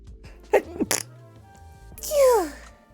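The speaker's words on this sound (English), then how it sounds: "I have to sneeze, hold on." A close, explosive sneeze with a wheezy rising and falling vocal tail, preceded by a few short breathy sounds and throat noises.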